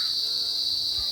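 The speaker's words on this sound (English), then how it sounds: "I can still hear the crickets. They're actually really, really loud in the most pleasant way" Crickets chirp loudly and steadily through a rainy evening in an upscale residential subdivision in Quezon City, a dense continuous insect trill with no voices over it.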